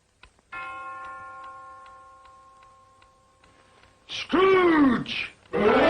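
A single bell strikes once, a clear ringing tone with a long decaying hum that fades over several seconds before a deep, groaning voice speaks.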